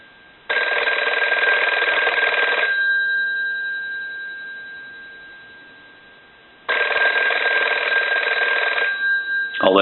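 An Automatic Electric rotary desk telephone under repair rings with a loud metallic bell in two long bursts separated by a pause in which the ring fades away, close and alone.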